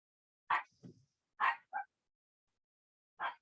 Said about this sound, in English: if you hear my little beast barking in the background